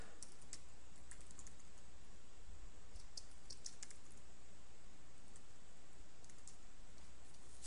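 Keystrokes of someone typing code on a computer keyboard, while programming an Outlook Business Contact Manager extension, come as faint, scattered clicks over a steady background hiss, with no voices.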